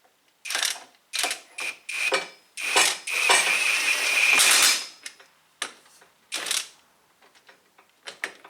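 A ratchet tightens the bolt on a motorcycle lift table cylinder during a seal repair, sounding as quick bursts of close, crisp clicking with short pauses between strokes and one longer continuous run in the middle.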